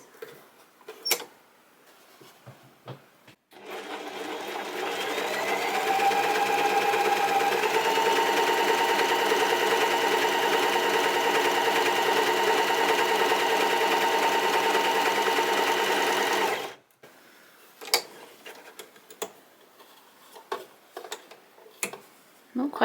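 A Brother 734DS overlocker serger runs in one steady, fast whirring burst of about thirteen seconds while stitching scrap fabric, close by, with scattered clicks and handling noises before and after.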